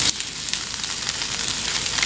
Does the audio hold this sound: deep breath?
no